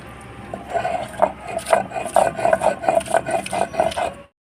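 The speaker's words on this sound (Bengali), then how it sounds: "এঁচোড়টা আর আলুটা একসঙ্গে চটকে নিচ্ছি" Boiled young jackfruit and potato are mashed together by hand, giving a rhythmic series of squelching, rubbing presses about three or four per second, close and moderately loud.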